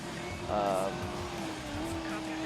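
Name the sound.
car driving in video game Need for Speed Most Wanted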